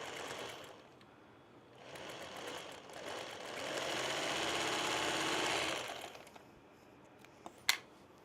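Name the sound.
sewing machine stitching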